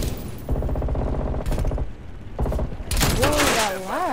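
Rapid bursts of gunfire from Call of Duty Cold War hardcore team deathmatch on the Yamantau map, close and loud in repeated volleys, with a voice talking over the shooting and a warbling tone near the end.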